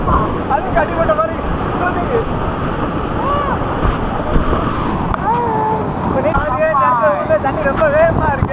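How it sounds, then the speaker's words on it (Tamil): Fast-flowing water at Serendah waterfall, a dense steady roar with wind buffeting the microphone, under people talking and excited voices close by. "தண்ணி ரொம்ப வேகமா இருக்கு."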